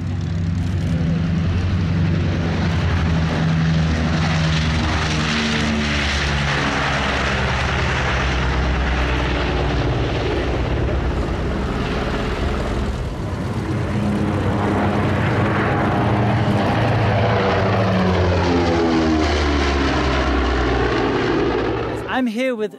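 Light propeller aircraft engine running loud and close at Oshkosh 2022, a steady drone with shifting pitch through the whole stretch, with people talking over it.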